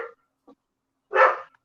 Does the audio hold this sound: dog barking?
yes